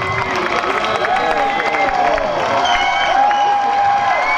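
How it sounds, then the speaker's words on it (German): Picnic crowd at a family outing in Baumwollpark clapping and cheering for a chili-eating contest winner, a continuous wash of applause mixed with scattered shouting voices nearby. "Applaus, Applaus."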